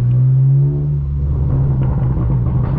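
A straight-piped BMW M4 F82 gives a deep, loud exhaust rumble that holds steady and close, with a brief rev flaring at the start before settling into a low drone.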